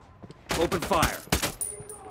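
Burst of automatic gunfire in the video game Ghost Recon Wildlands, several sharp rapid shots in quick succession, loud and close, with a voice briefly heard.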